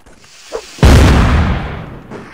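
A single heavy artillery cannon shot in Mount & Blade: Blood and Iron booms close and loud after a faint short sound, its deep blast decaying over more than a second.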